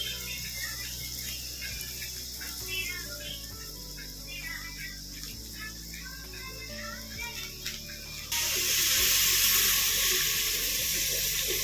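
Tap water runs into a cooking pot for masala rice in a small room kitchen, a faint trickle at first that turns into a loud, steady gushing stream near the end, with insect chirping in the background.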